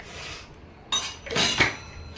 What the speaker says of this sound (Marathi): आता झाकण लावणार, झाकण दाबून लावायला लागेल दोघांना.